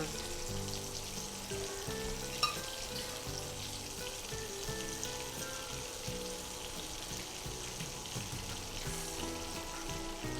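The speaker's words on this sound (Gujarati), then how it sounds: "આપણે આ કટલેસને શેલો ફ્રાય પણ કરી શકીએ છીએ" A steady, even sizzle of moong dal cutlets shallow frying in a pan continues throughout, with a soft tonal hum running underneath.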